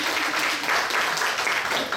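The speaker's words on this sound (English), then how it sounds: "do you mind giving Paul some applause here?" A room of listeners claps for a guest speaker taking the stage in a class session, the applause fairly quiet and a little distant, a short steady patter with no one talking over it.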